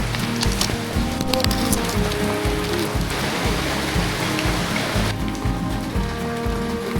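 Rain falls steadily during a ride to Netta, a dense hiss of drops on surfaces filling the scene, with a low rhythmic engine throb pulsing beneath it.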